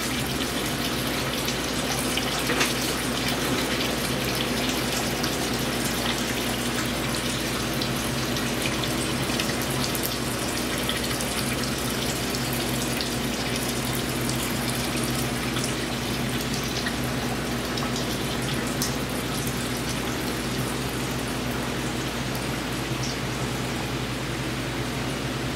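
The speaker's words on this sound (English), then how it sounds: "drain the coolant. I'm gonna let that drain" Coolant draining from a 2011–2014 Chevy Cruze engine during head gasket work, a steady, continuous splashing pour of liquid that runs unbroken and fairly loud throughout.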